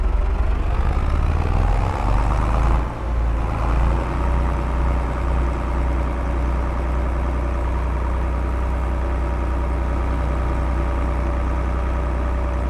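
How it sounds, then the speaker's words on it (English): Farming tractor engine in Farming Simulator 25 running steadily at a low, even idle-like drone, loud and continuous with a brief dip early on, no talk over it. "This is why I like this tractor."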